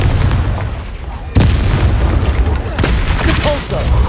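A Confringo explosive spell from Hogwarts Legacy bursts with a sudden loud boom partway through, followed by rumbling crackle and a second, softer blast over dense game noise.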